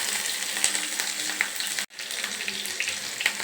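Onions sizzle and fry steadily in a pan, a dense continuous crackle at close range with one brief dropout midway and no talking.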